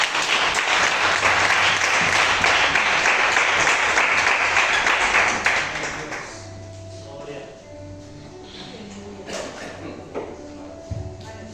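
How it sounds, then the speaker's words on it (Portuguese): A church congregation at an evening Brazilian evangelical service claps loudly and steadily for about six seconds, then the applause fades into quieter room sound while voices continue. "Vamos receber o pastor Jefferson com a salva de palmas para o Senhor Jesus Cristo."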